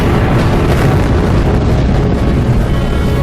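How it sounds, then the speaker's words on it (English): A stellar supernova explosion rendered as a dense, loud, rumbling roar that sustains evenly throughout without speech. "This creates one type of supernova in a massive stellar explosion."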